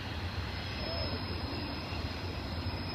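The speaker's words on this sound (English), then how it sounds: "Good thing I'm filming a train up here." A Norfolk Southern freight train rumbles low and steady at night in Pittsburgh, heard from a distance as a faint, continuous drone under outdoor ambience.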